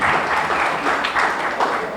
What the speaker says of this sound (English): So I'd like you to just give another round of applause